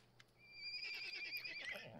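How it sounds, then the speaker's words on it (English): Scared ponies in the Pathfinder Kingmaker video game let out a loud, rising whinny with snorting breaths, clear and alone over a faint low hum. "They don't run away, but they snort loudly and neigh as you approach."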